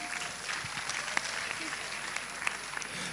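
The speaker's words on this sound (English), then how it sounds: "A round of applause for him," Applause rises from an audience at a live-streamed foundation event with students, a steady fairly quiet patter of clapping with a few sharper claps standing out, sustained throughout.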